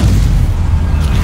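Incendio fire spell cast in Hogwarts Legacy: a loud, steady, rumbling roar with a heavy low end that stays constant throughout the brief moment, with no talking.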